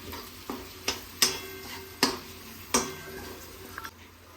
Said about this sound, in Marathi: चांगला असं सर्व काही हलवून घ्यायचं आहे मित्रांनो